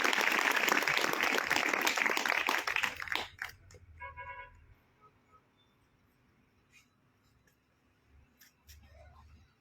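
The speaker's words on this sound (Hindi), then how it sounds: "इनके लिए भी जोरदार तालियां" Loud audience applause welcoming honoured guests at an event, dense clapping for about three seconds that stops abruptly, followed by quiet room noise, a few taps and faint voices.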